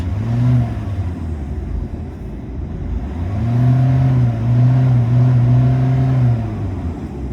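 A car engine, fitted with a DPF delete emulator, revs up, drops back, then revs again in sustained pulls, close and loud over a steady idle rumble.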